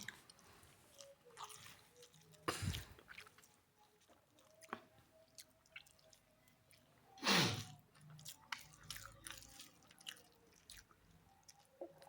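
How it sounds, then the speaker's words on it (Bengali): Close-up chewing and eating, with soft wet mouth sounds, occasional crunchy bites and two louder bursts of mastication in an otherwise quiet room. "আমার দেওয়ার খাওয়া শেষ হয়ে গেছে, আমি এখনো খাচ্ছি"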